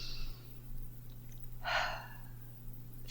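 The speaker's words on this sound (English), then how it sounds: "Take a deep breath in" One deep breath in, a brief airy inhale heard close against a faint steady hum, with a softer breath at the start.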